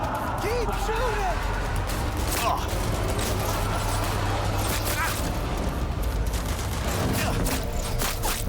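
Gunfire in Cyberpunk 2077, with rapid bursts of shots and booming impacts cracking over a dense game soundscape while a voice talks throughout.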